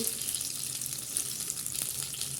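Tofu fries in a pan with a continuous, moderately loud hiss and crackle of hot oil, plus a faint watery splash underneath and no talking.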